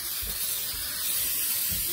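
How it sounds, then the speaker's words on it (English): Canola oil cooking spray is sprayed onto a cupcake pan, a steady airy hiss lasting about two seconds with no talking. "We're gonna go ahead and spray our cupcake pan with"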